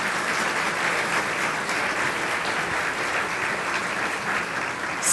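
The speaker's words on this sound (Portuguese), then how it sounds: "uma salva de palmas para" Sustained applause from a studio audience on a Brazilian talk show, celebrating Carmen Lúcia Bueno Vale's birthday; dense, steady clapping fills the whole stretch without letup.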